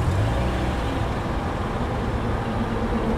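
A 2014 Hyundai Elantra engine running at idle, a steady low even hum with no knocking or whine, heard up close and continuous.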